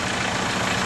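A VW Rabbit's diesel engine runs at a steady idle, a close, even rumble with no voices over it.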